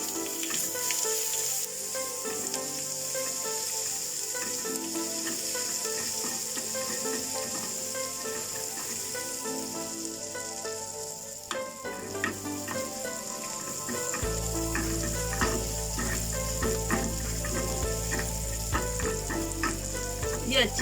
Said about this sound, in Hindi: ये अच्छे से भून जाना चाहिए कि मसाले का स्मेल खत्म हो जाए